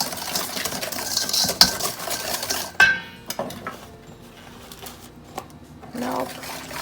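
An egg whisked in a bowl, the utensil clinking and scraping against the sides in quick bursts, with a few louder knocks, close and moderately loud under light kitchen noise.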